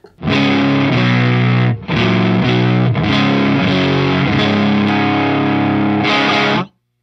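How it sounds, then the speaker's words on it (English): Electric guitar through an overdrive pedal with its input gain raised, gritty distorted chords strummed in loud bursts with a short break partway through, ending abruptly, no voices. "We just built an overdrive pedal."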